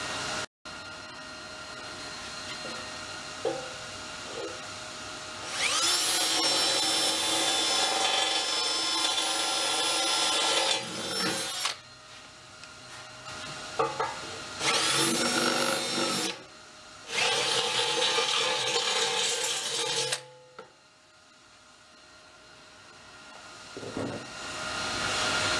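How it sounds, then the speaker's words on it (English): A power drill whirs in several sustained bursts drilling out a crack in a backhoe, each running a few seconds with brief pauses between, loud and close, with some clanking around it. "Go grab a drill, drill that out."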